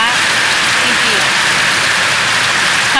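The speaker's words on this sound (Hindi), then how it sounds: "बारिश कितना तेज और यहाँ पे देखिए कितना कितना लग गया है पानी।" Heavy rain pours steadily over fields during a long-awaited downpour, a loud, dense, unbroken hiss of falling water that fills the whole stretch.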